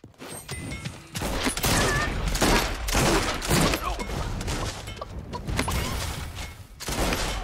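Gunfire in the battle-royale video game Realm Royale: dense bursts of shots and impacts run almost continuously, loud and close, with brief lulls between volleys.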